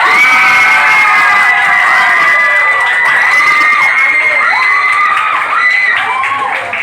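A loud crowd of young voices shouting and cheering together at an 18th birthday party, with scattered clapping, sustained for several seconds before tapering off slightly.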